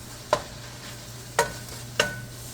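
Garlicky spaghetti sauce is stirred in a pot with three distinct spoon scrapes against the pot, spaced about a second apart, over a faint steady background hum.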